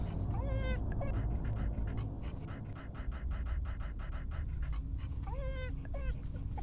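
A dog in the horror video game Fears to Fathom pants steadily and whimpers in short high whines at the start and again near the end, close and fairly loud over a busy game background.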